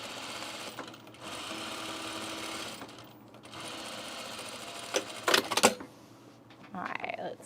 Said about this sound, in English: It's like sewing through molasses.